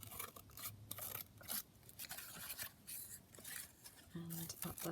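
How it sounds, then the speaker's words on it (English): Scissors trim across the bottom edge of a handmade junk journal cover, several soft snips and paper rustles close by, with a voice talking quietly over them. "let's just trim across the bottom."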